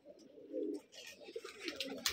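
Rajshahi Giribaj pigeons coo softly at close range in a pigeon loft, with a few low burbling calls and light higher chirps over about two seconds.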